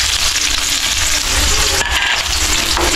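Chopped onion tipped into hot cooking oil with garlic, giving a loud, close, steady sizzle and crackle that fills the whole moment without a break.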